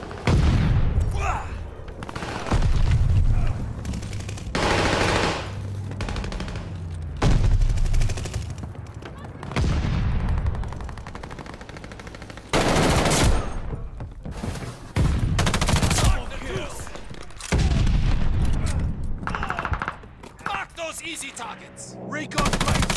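Video game combat with heavy gunfire, rapid automatic bursts and repeated grenade blasts booming throughout, loud and close, with a player talking intermittently over the chaos.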